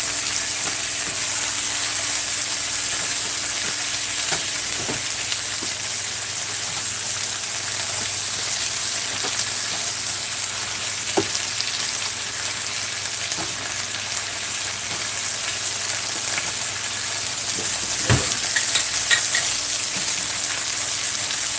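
Food sizzles steadily in a hot frying pan during a breakfast cook of fried roast breadfruit and sautéed smoked herring, with a few close scraping stirs breaking through the constant hiss. No one speaks.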